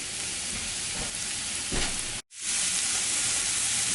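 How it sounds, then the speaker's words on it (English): Crab meat sizzles in a pan with celery and orange pepper, a loud, dense frying hiss that runs steadily, cuts out for a brief moment, then resumes at full strength. "Now I will be adding the crab meat to it"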